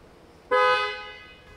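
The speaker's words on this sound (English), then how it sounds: "You have to honk the horn three times." A single car horn honks once near the microphone on a quiet night road, a bright, sustained toot that rises sharply and then fades as it is released.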